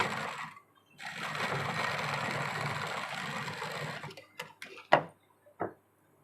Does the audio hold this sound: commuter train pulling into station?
no